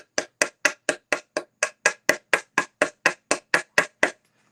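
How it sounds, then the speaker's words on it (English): A 1/4-inch wooden dowel peg driven into a board with a hammer, about seventeen sharp, evenly spaced strikes at a brisk steady rhythm, close and clear with no talk. "I take one of these 1/4-inch dowel pegs here, and I hammer it into place"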